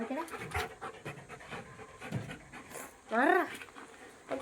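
A puppy pants rapidly and close by in quick breathy bursts, with a brief whine near the end.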